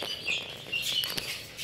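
Chicks kept in cages give faint, high, thin chirps, a few brief peeps scattered over steady background noise.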